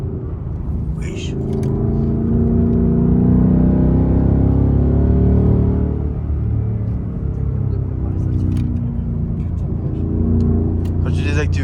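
Car lapping the Nürburgring at speed, its engine a steady loud rumble with rising and falling pitch as it accelerates and shifts, heard from inside the cabin with occasional voices over it.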